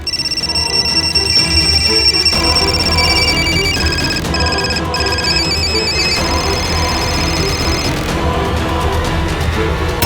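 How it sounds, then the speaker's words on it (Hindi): A telephone rings repeatedly with a bright, steady electronic tone over continuous music and background noise in a Hindi crime drama scene. "सुन टेलीफोन है।"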